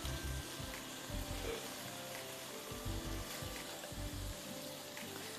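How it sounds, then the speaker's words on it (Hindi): Flour-coated chicken fries in a pan with a steady close sizzle, broken by low thuds and scrapes as it is stirred, moderately quiet throughout. "अच्छी तरह इसको भूनिए"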